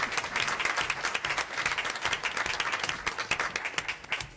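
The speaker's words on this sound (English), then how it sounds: "How about a round of applause for Justin Ting?" Steady round of audience applause at a school district board meeting for a student honoree, dense clapping throughout at moderate loudness, with no one speaking.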